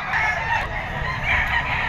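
A two-year-old Sweater-bloodline gamecock crossed with Golden Boy crows close by, one drawn-out call filling the whole moment with no voices over it.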